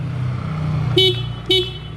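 Two short, bright beeps of a second-hand motorcycle's horn sound over a low idling engine, spaced about half a second apart.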